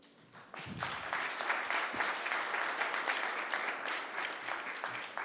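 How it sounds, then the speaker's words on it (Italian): Applause from a conference audience builds quickly into a steady wash of clapping and holds for several seconds. "Si inizia sempre bene con un applauso"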